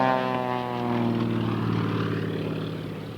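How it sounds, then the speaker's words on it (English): A propeller-driven aerobatic airplane pulls through a tight manoeuvre at the 1994 Sussex airshow, its engine a loud sustained drone with a shifting, Doppler-like pitch as it passes, heard alone without talk. "I've never seen an airplane pull through that tight."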